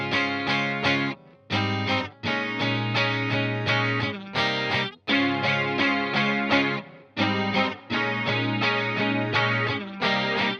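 Electric guitars with a chorus effect in a track, playing bright, shimmering chords in repeated bursts with short gaps between phrases, loud and with no voices.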